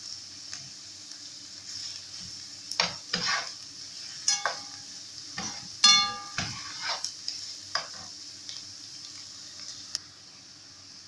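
Onions frying in a pan for a baked catfish tray, with a steady sizzle broken by several sharp stirring scrapes and clatters near the end.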